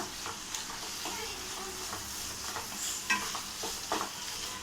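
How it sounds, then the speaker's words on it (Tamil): Sautéed ivy gourd is stirred into an onion-tomato masala for a tamarind kovakkai curry, with repeated scraping stirs over a soft, steady sizzle. "இப்போ நம்ம வதக்கி வச்சுருக்க கோவரவை ஆட் பண்ணிக்கலாம் நல்லா கலந்து விட்டுக்கோங்க"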